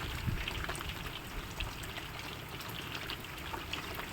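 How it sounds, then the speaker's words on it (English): Rain falls steadily on a garden, a soft continuous patter of drops close by with faint trickling water, no voices. "The noise of the rains, the pitter patter."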